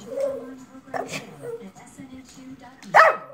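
Shih Tzu making short whining, yowling vocalizations in several bursts, ending in a louder yelp, close by, with a person speaking softly in between.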